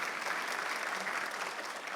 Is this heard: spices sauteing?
no